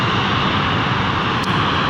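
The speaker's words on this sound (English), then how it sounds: "I don't know what that aircraft is here." An aircraft passes overhead on a day of closed roads, a broad, steady engine roar filling the whole moment, loud and continuous with no talk.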